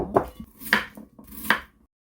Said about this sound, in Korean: 도톰하게 이 정도 썰어서 냄비에 바닥에 깔아주세요